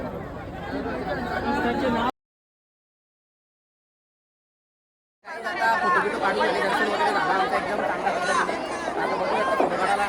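Dense crowd chatter fills the Ekvira temple, a thick continuous babble of many voices. It cuts to silence for about three seconds, then returns just as loud and busy.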